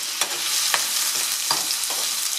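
Chopped onion and garlic fry in a pan with a dense, steady hiss of sizzling oil, broken by several scraping strokes of a utensil stirring them, close and fairly loud.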